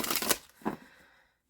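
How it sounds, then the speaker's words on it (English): A Heavenly Bodies Astrology tarot deck is shuffled on cloth, giving a quick soft riffle of cards followed by a second brief flutter, close and quiet, then silence. "let me just give this a shuffle up"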